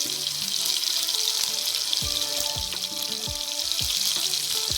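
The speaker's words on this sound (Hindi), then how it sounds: "चिकन को हमने पैन के अंदर डाल दिया है, हमने इसे लो फ्लेम पे फ्राई करना है।" Chicken fries in a pan on a low flame, a steady close sizzle and hiss with faint clinks and scrapes of utensils against the pan.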